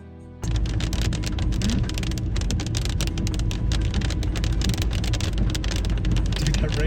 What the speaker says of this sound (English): that rain's so aggressive. It's just rain, but it's so fast. It's like straight down.